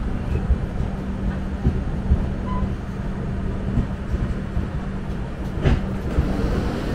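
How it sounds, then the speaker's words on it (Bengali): Sealdah Puri Duronto Express rolling slowly into Kharagpur station at night, a low continuous rumble of wheels and carriage noise with faint clanks and a steady tonal hum, heard from inside the train. "ট্রেন এখন স্লোভাবে ঢুকছে স্টেশনের দিকে"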